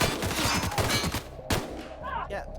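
Shotgun blasts from The Outer Worlds, several dense bursts of gunfire packed into the first second and a half with a sharper single shot near the middle, loud and close with a voice partly over them.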